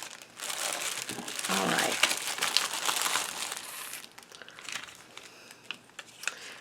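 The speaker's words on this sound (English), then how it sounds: "Let me see if I can open it without ruining the bag." A stapled paper mail bag is pried open, with crinkling, tearing and rustling of paper at close range that fades after a few seconds into lighter handling noises, under a brief spoken remark.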